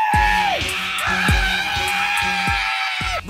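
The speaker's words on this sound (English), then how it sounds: "Scream! Scream!" A person screams loudly in a sustained, wavering vocal cry, repeated in several drawn-out bursts during a singing coach's warm-up.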